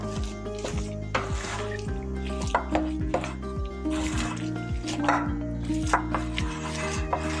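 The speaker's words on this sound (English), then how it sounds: "So here we're gonna mix it" A spoon works gluten-free no-knead bread dough with water in a bowl, giving repeated soft scrapes and clacks at a steady rhythm under background music.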